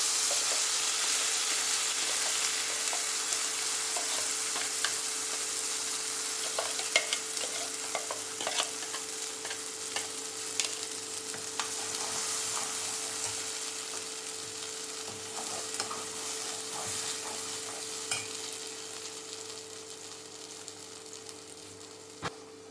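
Chole masala, spiced chickpeas, fries in a pan while being stirred. A steady, close sizzle runs throughout with scraping stir sounds and no talking.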